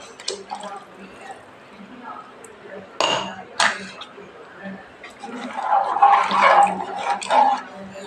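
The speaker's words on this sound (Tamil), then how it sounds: "தண்ணி அளந்து வச்சுருக்கேன், அதுதான் ஊற்றுறேன்." Measured water is poured onto rice in a pot for mutton biryani, a steady rushing splash that swells loudest near the end, with light clinks of pots and utensils before it.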